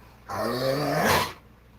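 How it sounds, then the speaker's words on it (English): A dog gives one low, drawn-out growl lasting about a second, close and fairly quiet in an otherwise still indoor room. "That's my dog."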